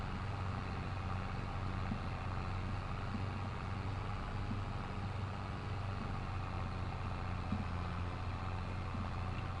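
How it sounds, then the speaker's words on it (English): A Fiat 1300 tractor in Farming Simulator 22 drones steadily as it pulls a load of silage uphill in a tractor pull contest, a continuous low, heavy engine rumble with no talking over it. "We only got 1 tractor left to pull up the hill, a Fiat 1300."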